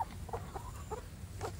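Free-range village chickens scattered outdoors give soft, short clucks, about six quiet calls within under two seconds, over faint background noise.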